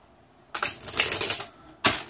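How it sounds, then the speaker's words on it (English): A deck of tarot cards riffled in one crisp, rushing shuffle lasting about a second, then a brief final snap of cards. "let me just give this deck one last shuffle."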